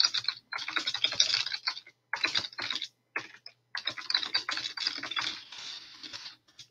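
Rapid computer keyboard typing, close and crisp, in bursts separated by short pauses.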